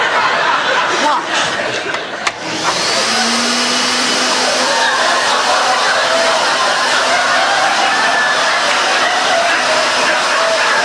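Vacuum slacks, trouser-style garments fitted with suction to draw fat from the body, run with a steady loud motor whine and hiss throughout, starting abruptly after a brief pause and droning on without letup, with a studio audience laughing underneath.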